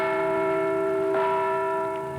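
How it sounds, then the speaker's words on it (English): A single large replica of the Liberty Bell rings out once, its deep tone sustaining and slowly fading. "with the ringing of a replica of the Liberty Bell"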